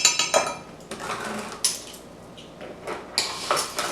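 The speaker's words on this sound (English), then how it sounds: "I'm going to whisk those 2 things together." A whisk clatters against a mixing bowl while blending cocoa and canola oil, a series of close, sharp metallic clinks and scrapes in irregular bursts.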